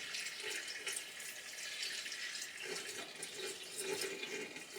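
Fuel trickles and splashes from a can into a jug in a continuous, quiet pour heard up close and alone, with a faint hissy wash throughout.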